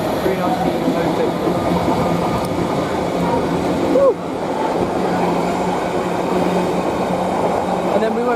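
A container freight train bound from Trafford Park to London Gateway rumbles past at Watford Junction on the West Coast Main Line, a continuous loud clatter of wagons with a brief squeal midway.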